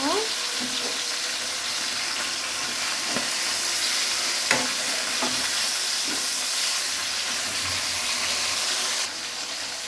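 Meat sizzles steadily in a pan after being flipped, a close, even frying hiss with occasional soft clicks of a utensil, ending in a slightly quieter sizzle.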